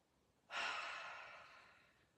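One long, deep exhale from a breathing exercise in a lunchtime functional strength session, close and airy, swelling quickly and then slowly fading, with no voices over it.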